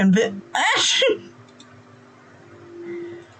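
A sudden close sneeze bursts out after a brief vocal sound, followed by quieter background noise.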